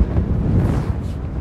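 Strong wind blows outdoors during a dog training session, pushing a loud, rumbling low roar against the microphone in uneven gusts across the short stretch, with no voices.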